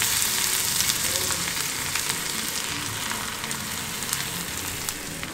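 Garlic bread sticks sizzle gently in a covered pan over a low flame, a soft continuous crackling hiss with faint scattered pops, close by and steady throughout without speech.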